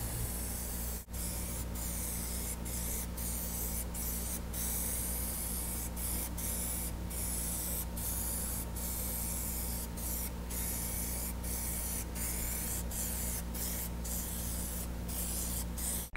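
True Metallic Plasti Dip in anthracite is sprayed in heavier coats onto a wheel. A steady, close hiss runs without a break, broken only by faint ticking clicks.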